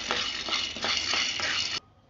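Peanuts fry and get stirred in a pan for tamarind leaf chutney, a loud bright sizzle with rhythmic scraping strokes about every half second, cut off abruptly near the end.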